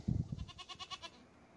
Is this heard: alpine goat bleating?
yes